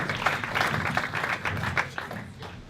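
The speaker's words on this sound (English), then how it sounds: "A big round of applause, Parisa" Steady applause from a room full of wedding guests at a golf club, dense and continuous clapping that holds at an even level for a few seconds.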